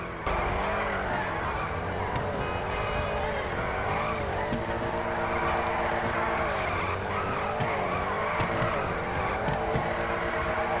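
A car drifts in GTA V with a continuous, loud engine roar and sustained tire skidding and squeal throughout, steady and close, with no talking heard.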